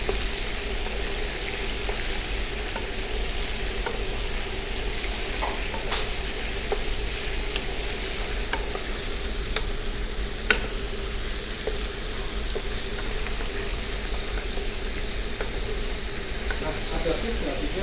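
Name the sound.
shrimp frying in a pan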